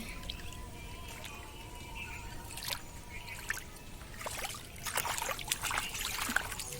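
A toy boat drifting through pooled rainwater, with faint trickling and splashing that grows busier toward the end over a quiet background and no voices.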